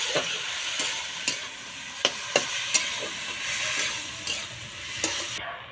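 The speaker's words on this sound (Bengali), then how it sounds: "শুটকি মাছটা দিয়ে এই যে নাড়াচাড়া করে একটু ঢেকে রাখলাম" Lote shutki, a dried fish, is stirred with taro stolons in a sizzling pan, giving a constant frying hiss with several sharp spoon knocks and scrapes at irregular intervals.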